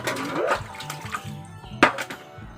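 Vegetables being washed by hand in a basin of water, with close splashing and sloshing in uneven bursts and a sharper splash near the end, fairly loud and without talk.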